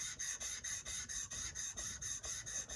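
A steel chisel's back is rubbed vigorously on a wet sharpening stone, a rapid even back-and-forth rasp of about ten strokes, close and fairly quiet, with no talking.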